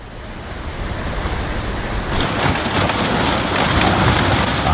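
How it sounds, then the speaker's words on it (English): Raging flash flood water from a monsoon storm surges through the Grand Canyon, a loud, steady roar of rushing water and debris that swells and thickens partway through, with no talk over it. "raging water and huge debris poured down from a monsoon storm"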